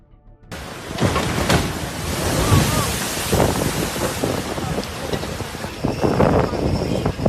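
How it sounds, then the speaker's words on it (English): Powerful surf pounds the harbor of a small Greek seaside town where boats are moored, producing a loud, continuous roar of crashing water and heavy wind buffeting the microphone. "Powerful waves are capable of snapping mooring lines, damaging boats, and threatening coastal communities."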